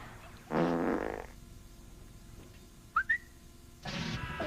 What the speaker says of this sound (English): Flatulence is also a favorite function for the old man in Toshinden